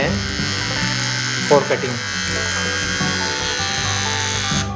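Mi electric beard trimmer running: a loud, steady close buzzing motor hum that continues throughout, with a person talking over it.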